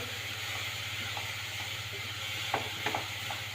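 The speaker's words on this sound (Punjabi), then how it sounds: "ਦੇਖੋ ਤੁਹਾਡੇ ਸਾਹਮਣੇ ਹੀ ਆਪਾਂ ਭੁੰਨ ਰਹੇ ਹਾਂਗੇ" Onion, mustard seeds and spices dry-roasting in a pan with no ghee or oil give a steady soft sizzling hiss, with a few brief spatula scrapes near the end and no voices.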